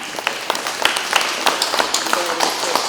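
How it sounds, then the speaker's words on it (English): An audience at a school event for military-connected youth claps steadily, a dense patter of many hands with sharper individual claps standing out, close and lively. "Let's give Chris a round of applause"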